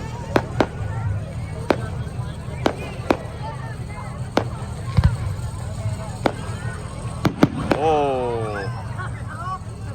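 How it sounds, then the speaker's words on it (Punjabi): Diwali fireworks burst outdoors, with repeated sharp bangs scattered across the scene, a rising whistle near the end and a steady murmur of crowd chatter underneath. "ਫਾਇਰ ਵਰਕ ਪੂਰਾ ਤਕੜਾ ਹੋ ਰਿਹਾ ਜੀ"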